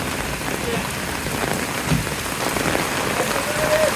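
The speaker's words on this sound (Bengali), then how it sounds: "পাড়াঘরের বৃষ্টির সিন আপনি একটু দেখবেন" Loud, constant rain patters close by on surfaces in a Bangladeshi village, a thick even downpour with faint background sounds but no clear talking.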